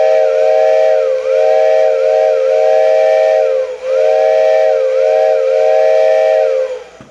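A Marx electric toy train steam whistle, blown by an inflator through a hose, sounds continuously with a steady, hissing, chord-like tone that wavers slightly and dips briefly a couple of times before stopping.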